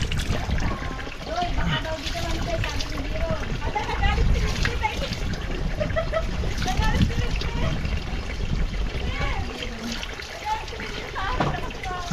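Water splashing and trickling continuously as people bathe outdoors at an open water source, with lively voices talking over the steady sloshing throughout.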